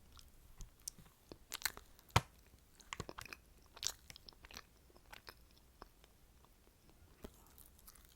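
Chocolate bread is chewed close to the microphone in a quiet ASMR setting, giving soft irregular crunchy bites and moist mastication sounds over several seconds without talking.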